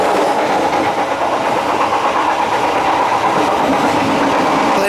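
Bengawan passenger train rolling through Gedung Gede station, a loud continuous rumble and rush of wheels on track heard from on board, without pauses.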